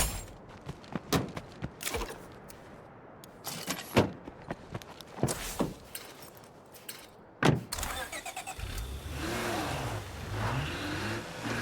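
A car in the State of Decay 2 video game starts up and drives off, the engine revving in bursts amid door clunks and impacts, then settling into a steady, louder engine drone toward the end.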